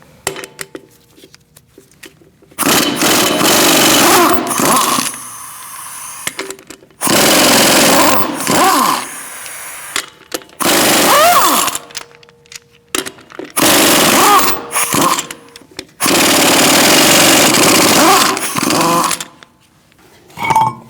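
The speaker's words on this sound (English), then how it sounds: "I'm using a 19mm socket, and we're going to remove the lug nuts." Loud, close, rattling bursts come from a power tool with a 19mm socket removing the wheel lug nuts on a 2016–2019 Chevrolet Cruze, several long runs separated by brief quiet gaps and clanks.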